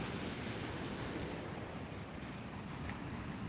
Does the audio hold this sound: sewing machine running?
no